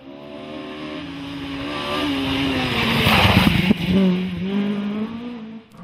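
Mark II Ford Escort historic rally car on a stage of the 2013 British Historic Rally Championship, its engine revving loudly and rising through gears close by, with a brief harsh burst before easing off.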